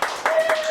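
Hands clap three quick times, loud and close, with a voice in the background.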